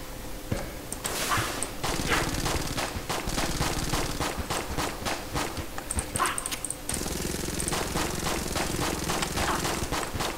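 Rapid, continuous gunfire from the video game Enter the Gungeon, dense bursts of shots and impacts throughout, loud and busy with no talk over it.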